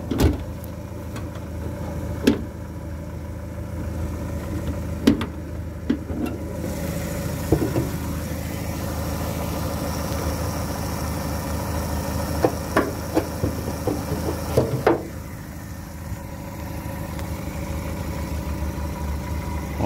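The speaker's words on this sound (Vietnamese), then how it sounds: "Máy nổ rất là êm nhé bà con nhé." A 2007 Daewoo Lacetti with manual transmission idles steadily, a smooth, even engine hum throughout, with a few faint clicks and knocks near the car and no talk.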